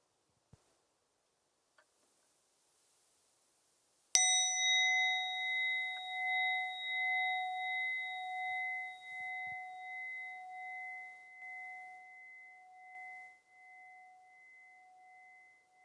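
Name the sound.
meditation bell ringing and fading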